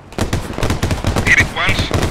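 Rapid automatic gunfire in the military shooter Squad, a dense burst of repeated shots running through most of the short stretch, loud and close, mixed with a bit of player voice chatter.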